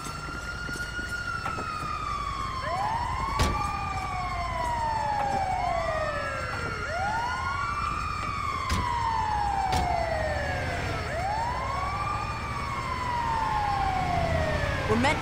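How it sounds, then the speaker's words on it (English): Ambulance siren in GTA V, wailing in repeated rising and falling sweeps over a continuous background of game noise and traffic, at moderate volume for the whole stretch. "Oh, it's the ambulance!"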